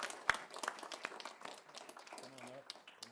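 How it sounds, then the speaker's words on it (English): Scattered, faint applause from a small group at a city council meeting in Columbia, Tennessee, with a few sharper individual claps standing out against a quiet room. "Let's give them a round of applause and we'll take a group photo"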